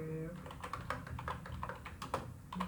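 Quick typing of program code on a computer keyboard, a run of crisp key clicks at an uneven, brisk pace, close and fairly quiet, with a faint voice near the start and end.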